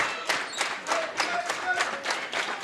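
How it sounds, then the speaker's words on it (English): A crowd at a girls' high school basketball game claps and cheers in steady rhythmic bursts, filling a gym with bright, moderately loud applause that pulses evenly throughout. "Crowd kind of getting into it."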